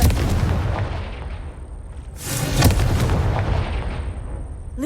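A Confringo fire spell goes off in the Hogwarts Legacy video game, a loud booming burst that swells, fades, then erupts again with a second heavy blast.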